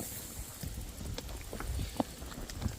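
Scattered horse hoof clops on a trail, irregular and moderately close, over a light wind rumble.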